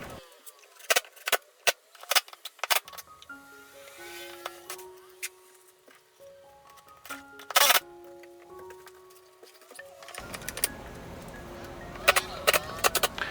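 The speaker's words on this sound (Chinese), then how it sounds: "把木板装上去以后，我再把这个支架的螺丝呢把它上紧" Screws on a shelf bracket holding an oak board are tightened, giving sharp scattered clicks and short metallic ticks close by over a soft tonal background.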